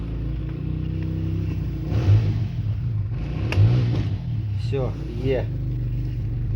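A car engine revs nearby in a steady low rumble, rising briefly, while a person talks over it.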